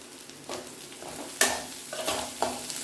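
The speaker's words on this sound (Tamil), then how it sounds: "நல்லா வதக்கி விட்டுக்கலாம் வடகம் கூட சேர்த்துருக்குறேன் கருவேப்பில் சேர்த்திக்கலாம்" Small onions, vadagam and curry leaves sautéing in a pan for tamarind kuzhambu, with a low sizzle and a few distinct scrapes and knocks of the spoon, one sharper clack in the middle.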